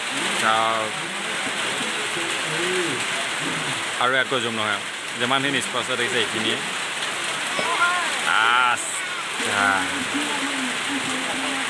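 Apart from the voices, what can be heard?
heavy rain during a village football game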